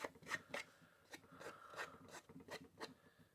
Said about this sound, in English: these scissors are making a bit of a noise.